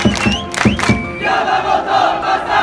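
A church group at a gathering lets out several sharp whoops and shouts, then a lively crowd cheers and claps together, loud and close, for a few seconds.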